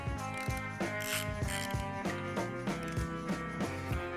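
Ratchet wrench tightening oil pan bolts on a Mazda B2200 engine, a rapid series of sharp metallic pawl clicks in repeated strokes, close and clear with no talking.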